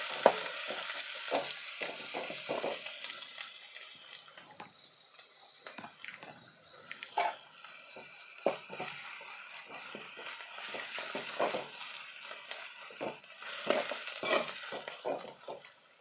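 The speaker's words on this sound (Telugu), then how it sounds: "బాగా కలిసేలా కలుపుకోవాలి." Tomatoes with turmeric are stirred in a pan for a chikkudukaya beans-tomato curry, giving a steady close sizzle broken by frequent scraping strokes of a spoon, with no talking.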